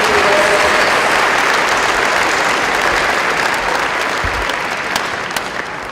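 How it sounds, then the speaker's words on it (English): A graduation audience applauds steadily through a community college commencement ceremony, a dense, sustained wash of clapping that fades slightly toward the end. "let's give them a round of applause right now"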